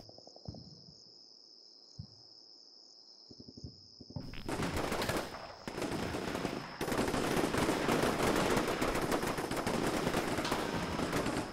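Units in a military video game open fire, with bursts of rapid automatic gunfire that start after a few scattered shots and build into sustained loud volleys over a constant high insect-like whine.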